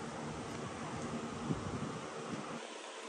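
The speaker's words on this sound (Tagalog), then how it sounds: "So, medyo maingay dahil sa ating electric fan." An electric fan runs in a room where a bicycle fork is being converted to boost hubs, producing a steady airy whoosh that stays close and even, with no talk over it.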